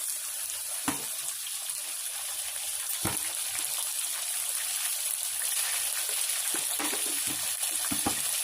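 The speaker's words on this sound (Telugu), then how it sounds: "బాగా వేగాలండి. సగం వేగింది ఫ్రెండ్స్." Food frying in a pan makes a continuous bright hiss that runs throughout, with occasional utensil taps and a small cluster of stirring knocks near the end, fairly close and without speech.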